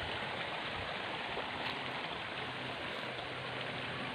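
A clear river flows in a constant, dense rush of water, loud and close, with no pauses or voices.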